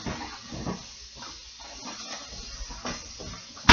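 Lamb chops brown in a hot pan with a steady, soft sizzle and hiss that carries on at moderate volume, with a sharper burst of spitting at the very end.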